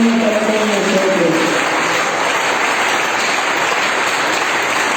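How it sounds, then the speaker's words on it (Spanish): A church congregation applauds during a sermon, a dense sustained clapping close and loud throughout, with a brief trace of voice at the start. "En un aplauso al Señor"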